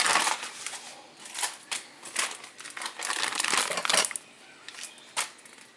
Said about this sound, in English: Alright, dump the cream cheese in.